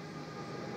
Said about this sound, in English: I think we have a train here on the Port Road branch at Saginaw, Pennsylvania, on the NS line.